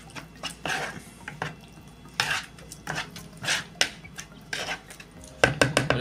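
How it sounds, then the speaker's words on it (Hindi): Veg keema mixture with tomatoes and water being stirred in a dish, a spoon scraping and clinking against the sides in irregular close bursts, loud and alone without talk. "और इसको अच्छे से मिक्स करेंगे।"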